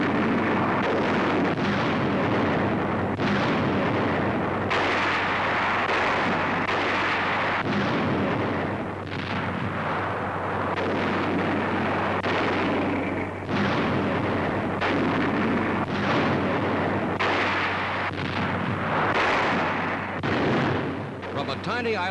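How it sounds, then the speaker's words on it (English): A US artillery bombardment of Kwajalein island in 1944, fired at almost point-blank range from a small neighbouring island: a long series of heavy booms and blasts comes again and again over a constant low rumble. "From a tiny island just west of Kwajalein, United States artillery pounds the objective at almost point-blank range."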